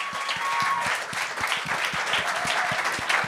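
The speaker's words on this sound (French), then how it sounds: "ben oui, on peut l'applaudir" Applause for a comedian on a gong-show style stage, a steady wash of many hands with a few sharp individual claps standing out close by.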